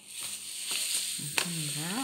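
Washing soda powder pours into a container for homemade dishwasher powder, a soft, close granular hiss lasting about two seconds, with a brief tap and a faint rising tone near the end.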